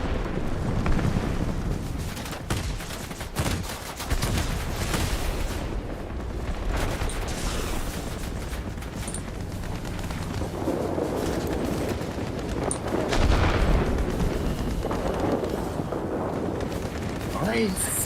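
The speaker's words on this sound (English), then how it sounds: "I'm hitting him with 30mm cannons" In World of Warplanes, an aircraft's 30mm cannons fire at a bomber in repeated loud bursts of heavy rapid shots, with engine roar and the noise of the dogfight throughout.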